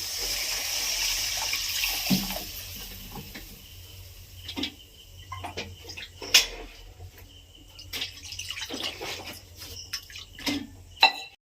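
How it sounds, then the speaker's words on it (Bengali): Water poured into a pan of egg curry with turmeric, a splashy pour early on followed by scattered clinks and knocks of a utensil against the pan, close by with no voices. "এবার আমি জল দিয়ে দেবো"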